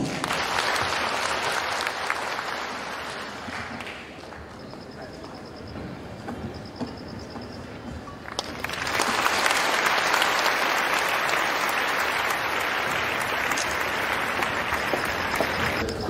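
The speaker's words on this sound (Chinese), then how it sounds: "掌声有请。" Audience applause welcoming Lee Woo-sung of the World Green Climate Association onto the stage at a formal lecture event, a dense steady clapping that dips briefly and then swells louder and fuller for the rest of the clip.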